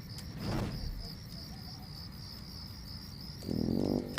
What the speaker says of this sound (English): and all you could hear were the crickets